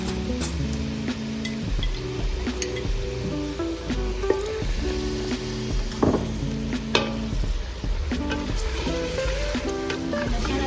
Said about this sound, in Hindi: चिकन जो है हमारी ब्राउन हो गई है, हल्का हल्का कलर आ गया है। और इसमें डालूंगी मैं लहसुन अदरक